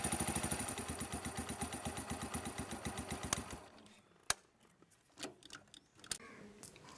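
A motorcycle engine idles with a fast, even chugging pulse for about three and a half seconds, then cuts out, leaving a quieter stretch of scattered clicks and knocks.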